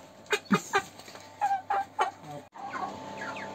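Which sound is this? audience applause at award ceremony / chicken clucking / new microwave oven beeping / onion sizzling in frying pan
chicken clucking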